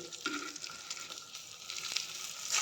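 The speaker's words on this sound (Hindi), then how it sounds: "एडा मु सेलो फ्राई करछि" KFC-style chicken shallow frying in oil, a faint, steady crackle and sizzle with small bursts of popping throughout.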